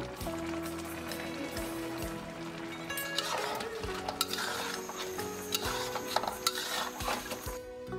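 Salt and sugar being stirred into pork trotters braising in a pot, with a continuous simmering sizzle and scattered scraping clinks of a utensil against the pot, close and steady, without talk.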